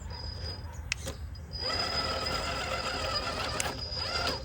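An RC rock crawler drivetrain whirs with a high mechanical whine, its dig mechanism engaging. A sharp click comes first, then a sustained grinding gear buzz with occasional clicks, close up.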